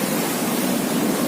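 Heavy surf pounds a Bicol shoreline in the aftermath of Typhoon Quinta. A dense, steady roar of breaking waves blends with wind buffeting the microphone and fills the short stretch without any break.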